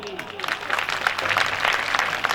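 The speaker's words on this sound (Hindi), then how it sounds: "ठोको ताली" An audience at a Narmada Purana religious discourse breaks into dense, sustained clapping, with a voice speaking over the applause.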